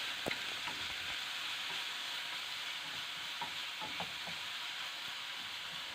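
A large finely chopped onion frying in a mix of olive oil and regular vegetable oil, a steady close sizzle running throughout with faint stirring scrapes and no voices.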